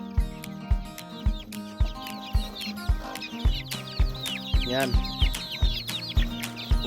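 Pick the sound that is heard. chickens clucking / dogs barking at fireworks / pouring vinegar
chickens clucking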